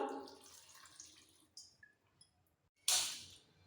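Half a cup of water poured into a pressure cooker holding flat beans and potatoes: a few quiet clinks and drips, then one short close splash.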